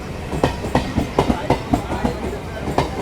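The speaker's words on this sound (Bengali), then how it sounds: "তোমার আপে একটা ট্রেন আসছে টালার এক নম্বর প্ল্যাটফর্ম" A train rolls past at Tala station platform in Kolkata with steady clickety-clack of wheels over rail joints, a rhythmic series of clacks against a low rumble, fairly close.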